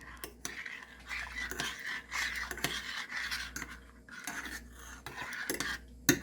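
A spoon scrapes and clinks around a pot as a flour mixture made from green striped cushaw squash is stirred in, with rhythmic scraping strokes close by and a sharper knock at the end.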